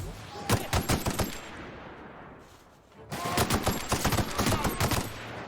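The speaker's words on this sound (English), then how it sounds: "Opening fire." Rapid gunfire in The Outer Worlds at Stellar Bay comes in two close, loud bursts of quick shots, separated by a short lull with a fading tail.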